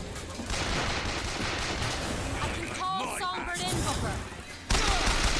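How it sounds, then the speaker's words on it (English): Rockets and gunfire in a video game, a dense rolling barrage of blasts and pops with a sudden louder burst near the end, heard under ongoing talking. "Did he just shoot one of those rockets at it?"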